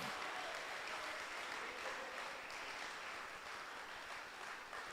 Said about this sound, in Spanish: ¿Cuánto podemos darle un aplauso a Cristo?